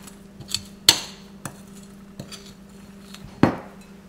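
A metal spoon lifting stiff cookie dough onto a cutting board, heard as a handful of sparse clinks and knocks against bowl and board, two of them sharp and fairly loud, with quiet gaps between.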